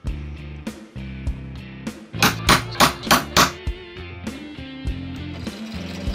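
A center punch struck with a hammer to mark hole positions on plywood templates, a series of sharp metallic taps, first spaced out and then a quick run of about six louder blows, close up over faint background music.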